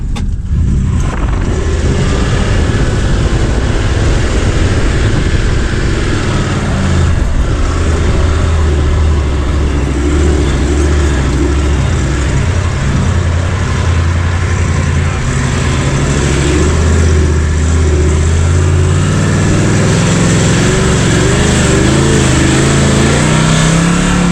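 A Suzuki Jimny's engine revs loud and close in third low gear as the little 4x4 crawls over rocks, its pitch rising and falling with throttle over a steady rumble across the whole stretch.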